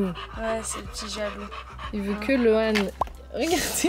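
A dog pants in quick, rhythmic breaths up close, with small whimpering sounds, while people talk over it.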